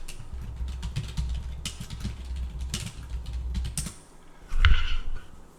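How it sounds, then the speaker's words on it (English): Close, steady keyboard typing on a computer as a company name is entered into a browser search bar, rapid irregular key clicks throughout with a louder burst of keystrokes near the end, no voices. "type in my company name"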